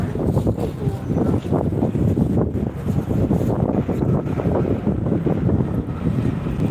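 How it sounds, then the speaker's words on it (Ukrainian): Strong wind buffets the microphone outdoors on a street, a continuous rough rumble with gusty fluctuations and no clear voices. "Вітер, звісно, на вулиці."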